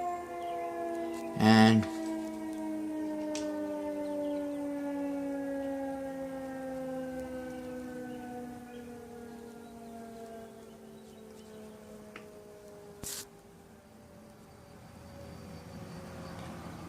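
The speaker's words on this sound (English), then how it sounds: "tornado siren test number one was 1:45 p.m. now, and the second tornado siren was now 6:45" A tornado siren test winds out over the area, its steady rising-and-falling wail carrying from a distance for many seconds, with a brief sharp bump near the start and a short spoken word.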